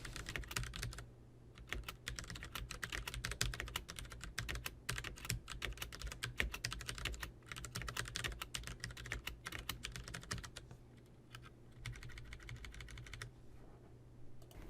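Rapid, steady keystrokes on a computer keyboard during data entry into form fields, continuous and close, with a brief lull near the end before typing resumes more softly.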